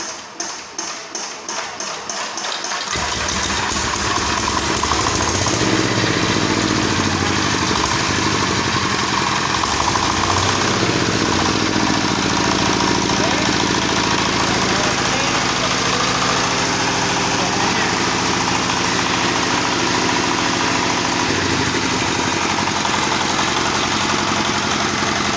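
A diesel engine, hand-cranked during a fuel-system overhaul practical, clatters through a few cranking strokes and then catches and runs at a loud, steady idle nearby.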